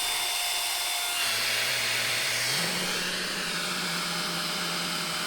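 An electric pump inflates a packraft, giving a loud, continuous close-up whine and rushing airflow whose pitch rises and steadies as the boat fills, with no talking.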